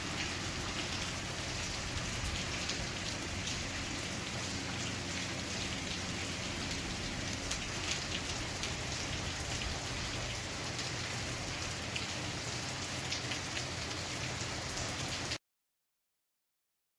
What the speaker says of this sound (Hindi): बरसती जा रही है बारिश, खत्म होने का कोई नाम नहीं है।